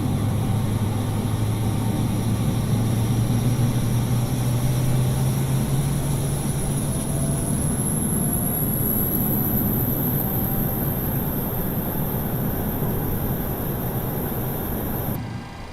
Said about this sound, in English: you hear the APU firing up